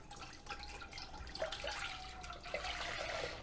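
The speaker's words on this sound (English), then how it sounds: "I have one 32-ounce box of beef stock that I am going to pour into this pot" Beef stock pours from a 32-ounce carton into a small sauce pot, a continuous close splashing and trickling of liquid with a few brighter splashes.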